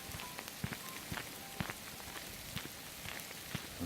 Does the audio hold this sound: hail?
yes